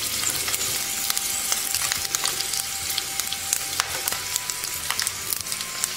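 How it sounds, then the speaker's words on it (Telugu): Green chilies sizzle steadily in hot oil in a pan, a dense, even crackle with scattered sharp pops throughout and nobody talking. "ఇలా పచ్చిమిరపకాయలు కొద్దిగా వేగాక దీనిలో ఇప్పుడు మనం కొంచెం ఎండుమిరపకాయలు కూడా వేసుకుందాం"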